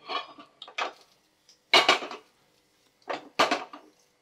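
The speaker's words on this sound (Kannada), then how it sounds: "ತವ ಈಗ ಬಿಸಿಯಾಗಿದೆ, ಅದರ ಮೇಲೆ ಈ ಕುಕ್ಕರನ್ನು ಇಡ್ತಾ ಇದ್ದೀನಿ" A pressure cooker for Mangalore-style kalappam is set down on a hot tava with a few close metallic clunks and clatters. The knocks come in short bursts with quiet gaps between them.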